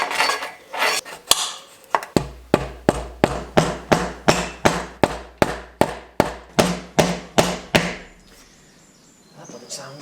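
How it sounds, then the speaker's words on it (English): A hammer strikes a seized bicycle bottom bracket in a fast, even series of about fifteen sharp metallic cracks, close and loud, preceded by a few scattered knocks and ending in a quiet pause. "A few smart cracks with the hammer."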